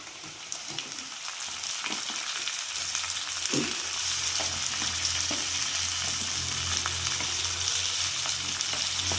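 Thinly sliced onions and tomatoes fry in a pan with a continuous bright sizzle. A few soft stirring knocks sound close by, and a low steady hum runs underneath.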